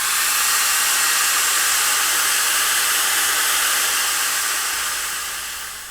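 A heat gun blows a steady, loud hiss of hot air onto a decal on a Vetter motorcycle hard bag, holding constant and close, then tapering slightly at the end.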